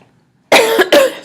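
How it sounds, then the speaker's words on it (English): A single loud, close cough bursts out after a moment of silence, then a second harsh cough follows right behind it, with no talking. "Excuse me, I'm just coughing."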